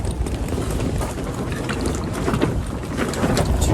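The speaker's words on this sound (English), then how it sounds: "I don't even know if you can hear me over the wind flapping" Strong wind blows outdoors, roaring continuously into the microphone with steady buffeting and flapping noise and no clear voice above it.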